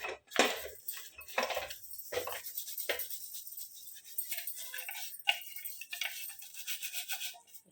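A brush scrubs the inside of a mixer grinder jar in quick, close strokes, with bursts of bristly scraping, sharp clinks and brief pauses between passes.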